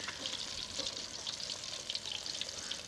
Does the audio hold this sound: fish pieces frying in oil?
yes